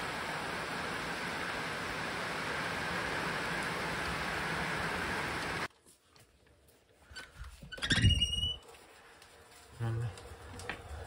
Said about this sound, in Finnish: Välillä sitten sataa.